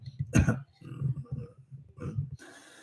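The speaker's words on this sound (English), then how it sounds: "I apologize for the cough." A man coughs and clears his throat in harsh, close bursts, one strong hack near the start and another later, mixed in with his own talking.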